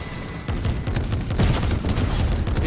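Rapid bursts of gunfire crackle in a video game firefight, dense overlapping shots in quick succession, loud and close, continuing without pause throughout.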